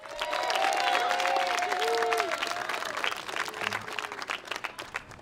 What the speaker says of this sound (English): how about one more applause for the District of Columbia's Jonathan Ogden?